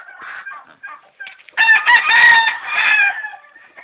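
Round head white leg broodcocks from a breeding pen crow loudly and close by, a few overlapping cock-a-doodle-doo calls following softer clucking, with no talk.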